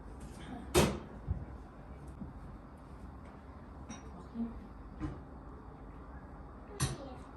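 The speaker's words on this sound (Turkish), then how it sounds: "hemen kapatıyorsun o buzdolabının kapısını" A refrigerator door shuts in a home kitchen with a sharp thud near the start, followed by a few softer knocks and a second clear bang near the end, all over faint room noise.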